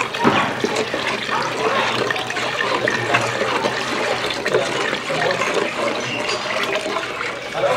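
Tamarind water poured into a simmering fish curry of live carp, a steady, close, splashing liquid pour that runs unbroken throughout, with no talk.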